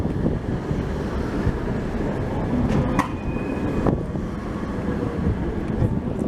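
A red-liveried Prague tram runs past with a continuous heavy rumble mixed with wind buffeting the microphone, and a brief metallic squeal rises from the wheels partway through.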